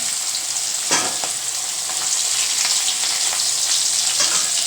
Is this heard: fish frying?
yes